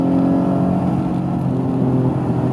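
Engine of an Acura NSX while driving, a steady loud drone with a low hum and a few tonal bands holding constant, heard from inside the car with no voices.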